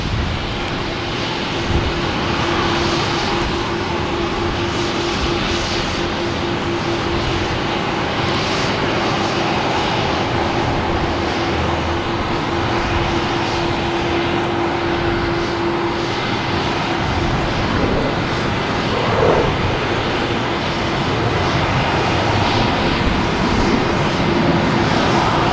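A JetBlue airliner at Boston Logan Airport roars continuously for a long stretch, a loud, broad engine rumble with a steady tonal hum running through it and no voices.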